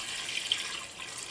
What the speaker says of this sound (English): let's go ahead and add the rest of the broth